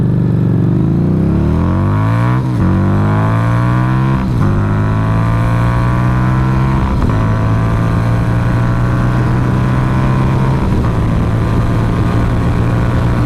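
A motorcycle engine revs hard through several gear changes, pitch climbing then dropping at each shift, loud and close with heavy wind noise.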